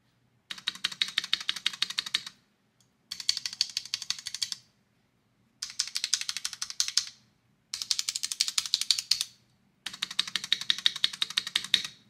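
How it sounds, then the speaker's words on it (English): Rattly stabilizers on a Keychron V1 budget mechanical keyboard with JWick T1 tactile switches clack under five quick bursts of rapid typing, each about two seconds, close and crisp with short pauses between. "test out the stabilizers, see if they're anywhere close to what you want. And these sound terrible"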